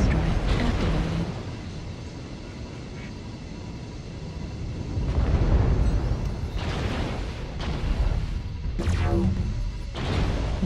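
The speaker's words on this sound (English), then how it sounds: "Airstrike activated." Airstrike explosions in the MechWarrior Online game, deep heavy booms and rumbling blasts rising in waves, joined by sharp crashing bursts and a brief whooshing sweep near the end.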